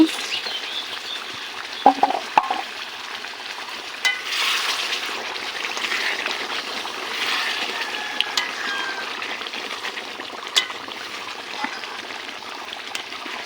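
Mutton being sautéed in a pot, a steady low hiss and sizzle with occasional small pops and clicks from the meat, fairly close and uninterrupted.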